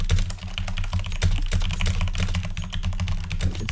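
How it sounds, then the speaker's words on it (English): Loud computer keyboard typing picked up by a studio microphone during a CS:GO match commentary, fast continuous key clatter close to the mic. "I'll stop with the typing. I didn't know it was that loud. It's the mic."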